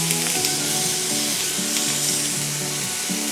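Onion, tomato, ginger and garlic sizzle in a hot pan for chicken lababdar, a steady close, loud frying hiss that runs unbroken with no voices.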